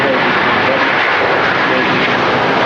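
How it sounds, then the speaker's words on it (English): A Virgin Atlantic Airbus A330 jet departing Manchester Airport makes a loud, steady broadband roar close to the listener, with engine noise continuous across the short span. "we've got Virgin A330 off to Islamabad"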